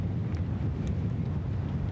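A strong headwind hits a cyclist riding through the Americas, a continuous loud roar of wind buffeting the microphone, low and rumbling, with no voices.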